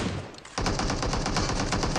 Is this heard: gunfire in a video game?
yes